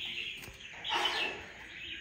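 A freshly wild-caught red-whiskered bulbul, still jittery in its cage, gives a few short, faint chirps over quiet room noise.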